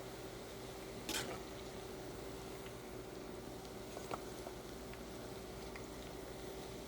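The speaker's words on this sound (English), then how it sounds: "Be very careful when you're frying product." Steady low sizzle of food frying in oil, a continuous crackling hiss with a couple of brief louder pops.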